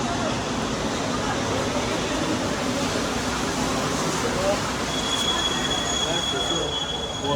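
A Marseille metro train runs into an underground station with a loud, continuous rumble. Wheel squeal and a high steady whine rise near the end, and voices may be faintly mixed in.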